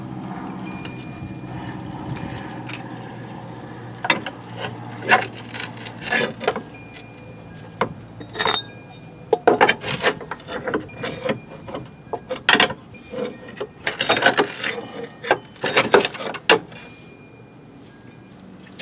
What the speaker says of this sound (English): let's put some new spacer up in here